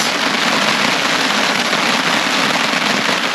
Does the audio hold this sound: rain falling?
yes